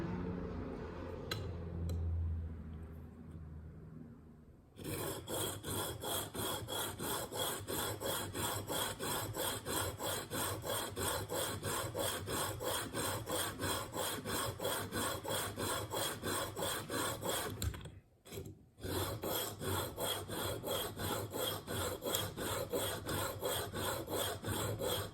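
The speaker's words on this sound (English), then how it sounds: "we're going to switch over to a more aggressive stone and just start removing a little bit of material." A single-bevel broadhead blade scrapes back and forth across a coarse sharpening stone in fast, even strokes, loud and close, with a brief pause near the end and quiet handling before the strokes begin.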